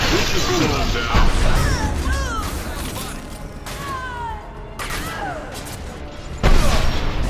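Gunfire crackles through a Mass Effect 2 firefight, with sharp bursts and crashing impacts scattered across the scene, loud and close, interleaved with shouting combat voices.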